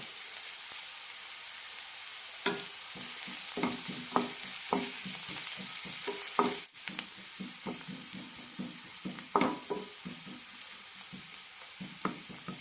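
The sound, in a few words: sautéing onions and curry leaves in a pan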